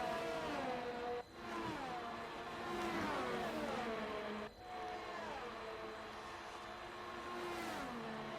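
Formula 1 cars racing at Baku in 2018, high-pitched engine whine rising and falling through gear changes with two sharp upshifts, loud and continuous.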